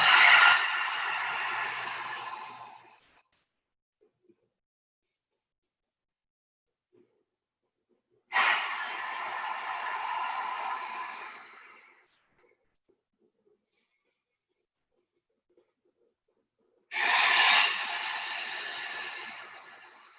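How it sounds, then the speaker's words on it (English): Deep breathing during a morning mat class: three long, breathy exhales about eight seconds apart, each fading out, with silence between. No talking. "Big inhale through the nose. Exhale out the mouth."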